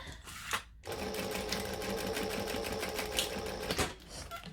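A sewing machine runs in a steady, continuous stitching burst on a crossbody bag, stitching and back-stitching, loud and close with brief pauses at the start and end.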